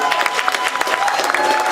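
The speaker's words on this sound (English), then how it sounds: "Please give a round of applause for Vincent D'Amico." Applause for an award recipient at an appreciation dinner: a brief patter of clapping from a crowd, steady and moderately loud.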